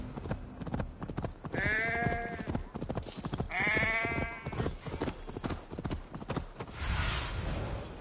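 Rapid, rhythmic hoofbeats of a galloping horse in the video game Assassin's Creed Valhalla, close and steady, with bleating animal calls rising twice over the pounding.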